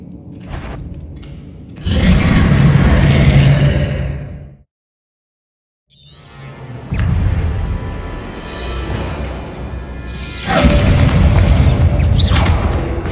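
Explosion spells cast in the Hogwarts Legacy video game, loud booming bursts in two long blasts separated by a sudden drop to silence, then a third swelling blast, with no talking.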